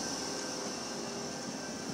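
A Sydney Trains T-set pulls in at Como station platform, its steady broadband rumble and hiss holding at an even level throughout, with no talk over it.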